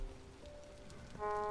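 Steady rain pattering down in the game Vintage Story at night, a soft continuous hiss with faint tonal music or game tones rising toward the end.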